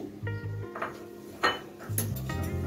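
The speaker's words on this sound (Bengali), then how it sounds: "চিনিটাকে একটা চামচের সাহায্যে মিশিয়ে নিব।" A spoon clinks against a bowl while stirring sugar into boiled, cooled milk for an eggless semolina cake, giving a few light, close metallic taps and scrapes with a low background hum.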